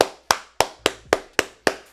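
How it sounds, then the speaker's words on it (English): Seven sharp hand claps in an even, moderately quick rhythm, close and crisp with short decays, nothing else heard. "Big clap."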